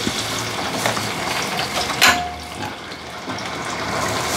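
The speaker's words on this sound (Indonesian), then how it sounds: "Oke, berarti ini Coba kita goreng aja." Sago crackers frying in hot oil give a steady, close, hissing sizzle, broken by a brief clatter partway through.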